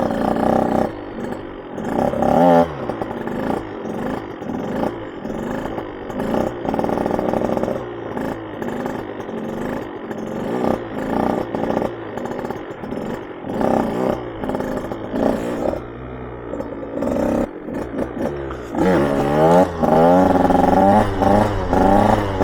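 A two-stroke dirt bike engine, a BombMoto B1 or KTM 105, revving hard and repeatedly during wheelie attempts, loud and close with rising and falling pitch throughout and no talk over it.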